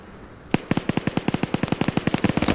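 Video game gunfire in a Friday Night Fights match as a player dumps a full magazine at opponents: a rapid, steady string of about twenty close, loud shots starting after a brief quiet moment.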